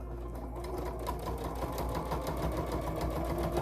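A domestic sewing machine stitches fabric for a quilted notebook cover, with a steady, close, rapid mechanical whir and ticking that runs continuously throughout at moderate loudness.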